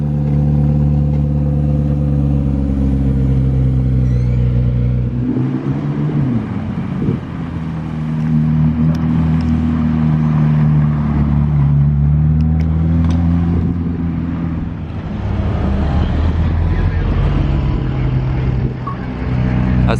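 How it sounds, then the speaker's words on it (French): A McLaren Elva supercar's engine runs loud and steady with deep harmonic exhaust tones, dipping briefly around midway before rising again, heard on a street in Monaco. "Je sais pas quel pot d'échappement viser pour le start-up."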